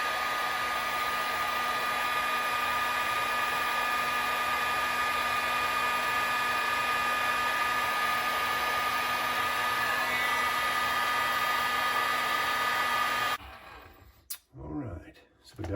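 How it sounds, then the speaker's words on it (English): A heat gun blows hot air over a wire connector while rewiring a bass boat's live well aerator pump, a loud steady roar held for about thirteen seconds before cutting off into quiet handling noises. "Now let's take our heat gun."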